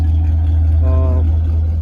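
A Pontiac G8 GT V8 breathing through long tube headers, a mid Flowmaster muffler and J pipes with quad tips, a loud close deep idle rumble with a brief rise in tone partway through.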